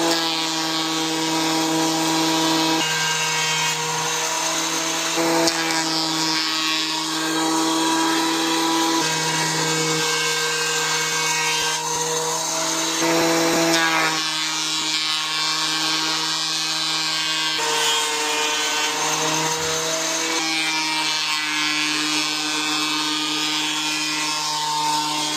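A thickness planer planing pine boards whines loudly and steadily, its motor tone dipping slightly as each board feeds through, with no talking.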